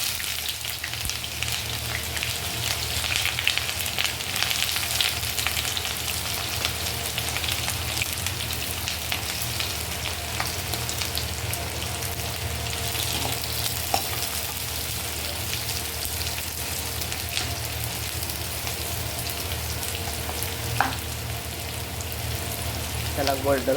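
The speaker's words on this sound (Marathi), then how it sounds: "आपण कांदा फ्राय करायचा" Chopped onion frying in hot oil gives a steady, even sizzle that crackles continuously for the whole stretch, close and moderately loud, with no break in the texture.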